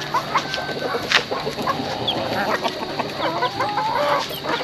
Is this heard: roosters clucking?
yes